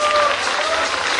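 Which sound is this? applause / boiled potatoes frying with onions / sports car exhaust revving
applause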